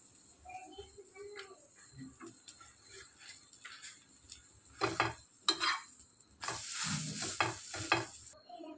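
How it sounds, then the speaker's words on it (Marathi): Buttered pav bread roasting on a pan while making pav bhaji, with soft sizzling and intermittent scraping and clinks of a utensil against the pan, growing louder and busier toward the end. "तर हे बघा छान असं बटर लावलेलं आहे. आता आपण व्यवस्थित भाजून घेऊ ते."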